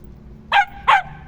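A dog barks twice in quick succession, two short, sharp, loud barks close to the microphone over a low background hum.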